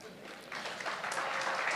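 Applause from a gala dinner audience, a soft, fairly distant patter of many hands that swells after a quiet start and holds steady for under two seconds.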